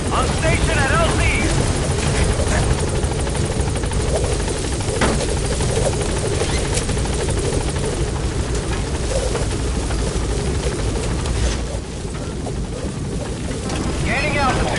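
A helicopter in Metal Gear Solid V: The Phantom Pain thrums loudly and continuously, with heavy rotor wash and wind, while arriving at a landing zone. Radio voices speak over the engine noise.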